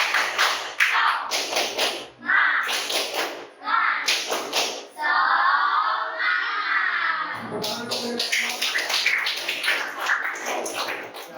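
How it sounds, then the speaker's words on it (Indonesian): A class of children performs a rhythmic 'tepuk semangat' spirit clap. Loud bursts of clapping come in patterned groups, broken by chanted and shouted voices, with one stretch of group chanting in the middle. "Bapak ingin anak-anak semua tepuk semangat lebih dulu ya"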